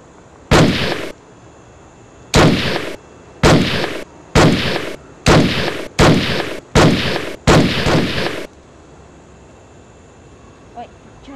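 Eight sharp, loud gunshots from a Beretta pistol fired at an irregular pace outdoors, each followed by a short echo, with quiet between shots.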